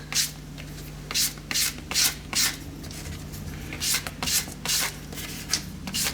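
A cast aluminium lava lamp nose piece, just off the lathe, is scraped or sanded to strip paint, giving repeated short rasping strokes in an uneven rhythm, close and fairly loud.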